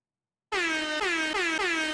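A loud air horn blasts in after a brief silence, sounding four rapid repeated honks in a steady rhythm.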